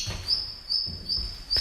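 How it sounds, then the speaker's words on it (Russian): Disturbed birds chirping inside an abandoned school, high thin chirps repeating in short bursts about every half second, fairly close, over low rumbling background noise. "Птицы. Мы растревожили птиц."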